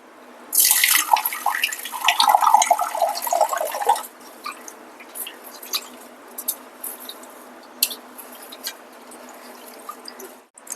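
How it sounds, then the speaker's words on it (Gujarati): Rice being washed in water in a home kitchen, with a burst of splashing and swishing water for a few seconds, then quieter scattered drips and small clinks close by. "હું હવે ચોખાને ધોઈ લઈશ."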